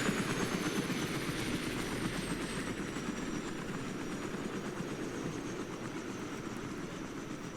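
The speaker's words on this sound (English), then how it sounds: "Also, I believe our helicopter is arriving." Helicopters arriving for air support in the Cold War strategy game Armored Brigade: a steady, even rotor and engine drone that holds at a constant level throughout, fairly quiet and with no talk.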